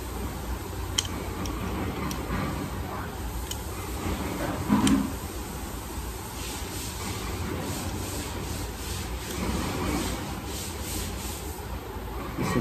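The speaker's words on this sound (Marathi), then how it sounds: "चालवून बघूया कसं आपलं ग्राइंडर फिरतो" An angle grinder fitted with a belt polishing attachment runs steadily the whole time, a constant broadband whirring rub with a few faint ticks and one brief louder scrape midway.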